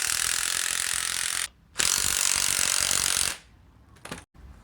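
Spring compressors being tightened on a 2005 Acura TSX front shock: two loud bursts of rapid ratcheting power-tool chatter, split by a short gap, then quieter clicks and handling noise.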